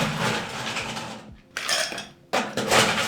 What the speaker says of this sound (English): Ice her up.